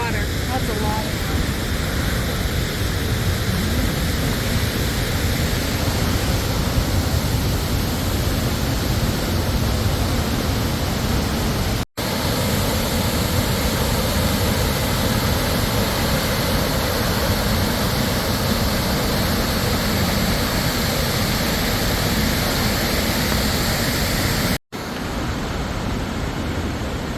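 Nugget Falls pours into Mendenhall Lake below Mendenhall Glacier in Alaska, a steady, loud broadband roar of rushing water that stays constant throughout, with wind and brief breaks in the recording.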